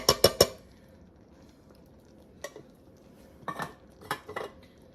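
Kidney beans from a can go into a cooking pot, starting with a few sharp metallic clinks and scrapes, then quiet, then a burst of spoon-against-pot knocks and clatter near the end.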